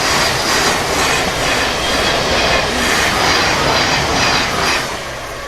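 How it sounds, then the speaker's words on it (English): A train rumbles past close by, a steady loud roar of wheels on rails with faint squeal, fading slightly at the end. "Trains."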